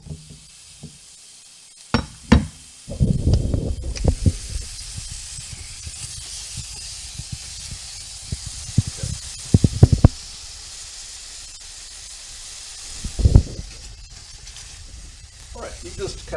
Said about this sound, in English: Let's do the sizzle sound here.